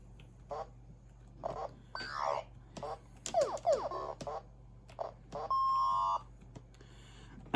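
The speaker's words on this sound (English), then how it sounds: "No, that's a collecting blackberries, or brambles noise." Short bright chiming and bleeping game effects for collecting blackberries pop up in quick bursts, with a sustained electronic tone near the end, fairly quiet overall.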